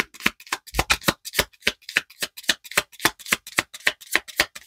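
Tarot cards being shuffled by hand in a steady run of crisp riffling bursts, close and clear, with no talking over them.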